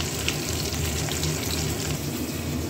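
Parshe fish, several at a time, fry in hot oil with a dense, continuous sizzle and crackle, close and steady throughout.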